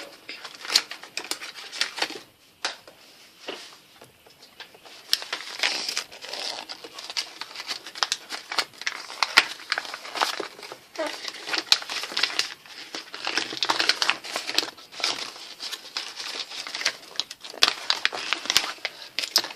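A paper My Little Pony brochure is opened and handled up close. Crisp crinkling and rustling comes in irregular bursts throughout, with brief pauses between handlings.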